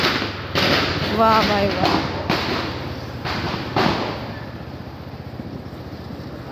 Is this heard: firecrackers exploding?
yes